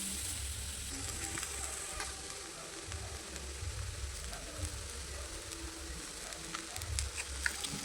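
Chow mein noodles frying in a hot pan, a constant crackling sizzle with intermittent low scraping and stirring sounds, close and fairly quiet with no talking.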